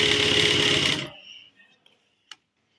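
A sewing machine stitches a suit seam in a short, loud, close burst that stops abruptly after about one second, followed by faint handling clicks.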